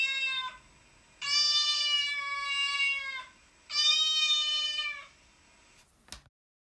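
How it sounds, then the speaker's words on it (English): A cat meows in three drawn-out, tonal calls, the second and third long and loud, close up in a quiet room, followed by a brief faint click. "This is a cat."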